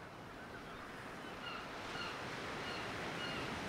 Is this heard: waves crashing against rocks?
yes